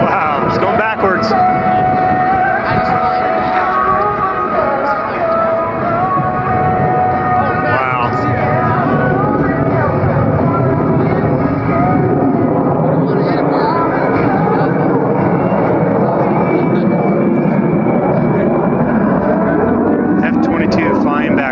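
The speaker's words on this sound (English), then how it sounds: "Raptor F-22 slow speed pass, less than 90 knots." An F-22 Raptor makes a slow pass below 90 knots at an air show, its jet engines producing a loud, continuous roar that stays steady throughout, with crowd voices talking over it.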